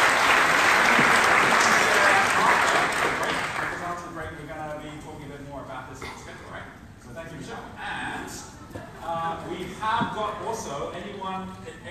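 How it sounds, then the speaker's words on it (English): An audience at an entrepreneur summit claps loudly, a dense burst of applause that fades over several seconds, after which a voice speaks over the thinning last claps. "Can we give Michelle a round of applause?"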